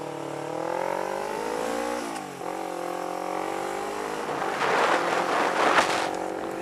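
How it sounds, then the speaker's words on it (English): A motorcycle in first gear pulls away as the clutch is slowly let out, its engine note rising steadily in pitch over several seconds, close and loud, with a brief dip before building again with wind noise. "gonna shift into first, and I'm gonna slowly let out the clutch, and we roll"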